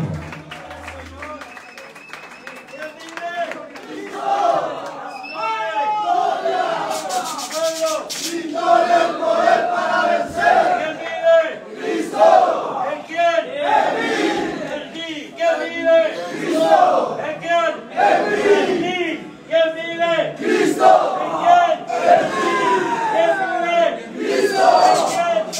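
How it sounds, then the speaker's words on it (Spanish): A church congregation claps and cheers loudly at an evangelistic gathering, a sustained crowd roar with shouts and whoops mixed with rhythmic applause, and voices calling out over it throughout. "Dale un aplauso fuerte al Señor."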